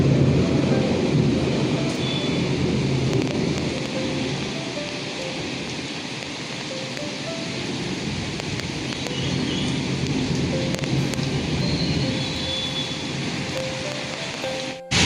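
Heavy rain pours down steadily in a dense, unbroken roar, with low rumbling that suggests thunder underneath, continuing for the full length with no voices.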